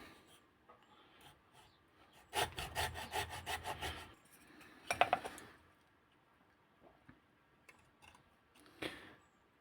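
A small hand saw cuts a wooden pistol grip for a CO2 1911 air pistol, with two close bursts of rhythmic rasping strokes, one long and one short, then a few faint scrapes and a final brief stroke.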